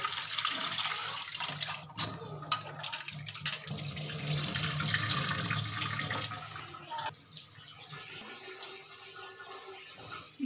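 Running tap water splashes over mutton liver as it is washed in a sink, a close, steady stream with shifting splashes that thins and quiets near the end, with no talking.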